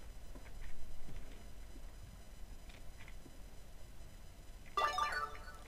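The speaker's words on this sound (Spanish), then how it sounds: "Me suena el móvil." A mobile phone ringtone sounds near the end, a short burst of bright repeating tones cutting in over quiet background ambience during a Minecraft Sky Wars game session.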